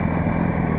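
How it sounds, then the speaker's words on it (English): KTM Duke 636 motorcycle engine close by, a loud, steady low-pitched rumble with a throbbing idle-like pulse lasting under a second, with no voices. "That Duke 636 is a little loud."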